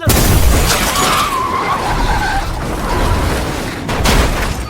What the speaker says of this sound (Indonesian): ternyata mobil mereka ditabrak